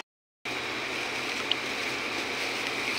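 Water steadily pours and splashes with chopped garlic mixed in, a continuous close rush starting after a brief silence and holding at an even level.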